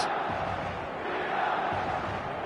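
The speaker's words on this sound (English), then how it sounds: "The stadium is full of noise and energy." Dense, steady roar of a packed football stadium crowd on match day, a continuous wash of voices with no single speaker standing out.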